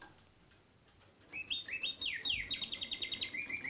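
After a quiet moment, a mechanical songbird in a cage starts up with rising whistled chirps and fast repeated trills, near and clear over faint ticking.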